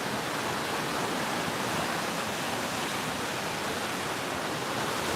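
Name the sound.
ocean waves hitting the rocks at San Bartolo beach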